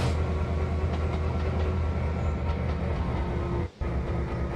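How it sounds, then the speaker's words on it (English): A locomotive in the Trainz 2022 train simulator braking to a halt, giving a steady rumbling rail drone with a faint metallic tone and a brief cutout near the end. "Now bring locomotive to a halt once again."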